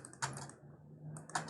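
Ctrl+1 pressed on a computer keyboard, two quick clusters of clicking keystrokes separated by a short quiet gap, close and crisp.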